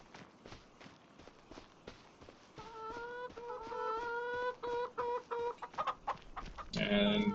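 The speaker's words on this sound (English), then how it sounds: "And the chickens have also laid some eggs" Farm chickens in Farming Simulator 25 cluck in short repeated bursts near the listener, over soft rhythmic footsteps, growing louder toward the end.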